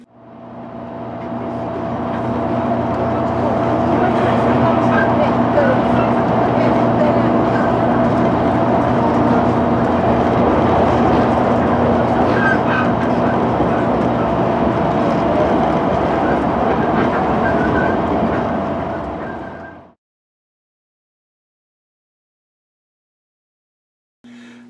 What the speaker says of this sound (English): I really wanted to get a video of these handsome trains in action.